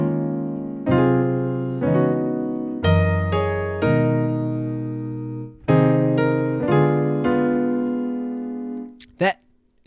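Piano plays the section 4 intro passage of a song, with a low left-hand note under right-hand chords struck in a steady series of sustained, ringing attacks, close and clear, ending with a brief knock.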